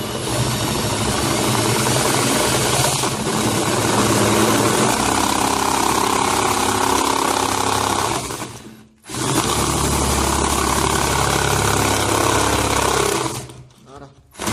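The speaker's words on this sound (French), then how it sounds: "Et vous commencez à percer tout doucement." Electric drill slowly boring into a part for a homemade portable air blower, a loud steady mechanical whine running continuously, dropping out briefly near the middle and again at the end before restarting.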